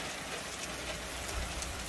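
Steady rain pours down in a heavy shower, a dense continuous hiss of drops hitting surfaces with a low rumble underneath, close and even throughout.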